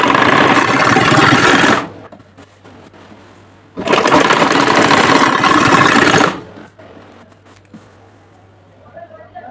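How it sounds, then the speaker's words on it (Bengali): A sewing machine top-stitches the neckline of a sari blouse in two loud, steady whirring runs of about two seconds each, separated by quieter pauses with faint handling sounds and a low hum. "এই যে আমি ঘুরিয়ে একটা চাপ সিলি দিয়ে নিচ্ছি"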